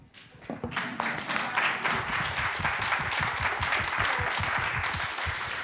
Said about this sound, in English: Give yourselves a pat on the back and give yourselves a round of applause.